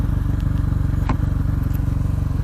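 A KTM 500 EXC supermoto motorcycle engine runs close by with a steady, throbbing single-cylinder pulse, broken by one brief clack partway through.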